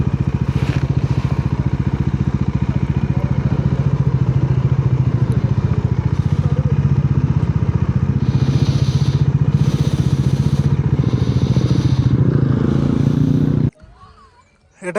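A motorcycle's engine runs steadily near a viewpoint on a ride toward Darjeeling and Lepchajagat, a loud continuous rumble with some clatter before it cuts off near the end as the bike is parked; a voice speaks over it.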